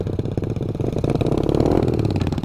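A mini motorbike engine revs steadily on a dirt trail, loud and close, its buzzing note rising slightly in pitch toward the end with no talking over it.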